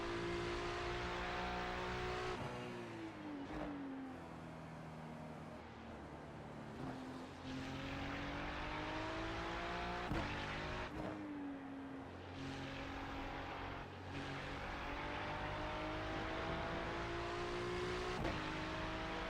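A Ferrari GT3 race car engine droning steadily with rising and falling pitch through gear shifts, and a continuous rushing road and tire noise beneath it, heard from inside at constant loudness.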